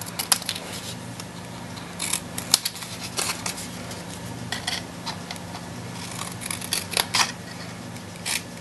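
Scissors snip a paper square for a tiny paper box, giving a run of small, close, crisp cuts in short irregular bursts against a quiet background.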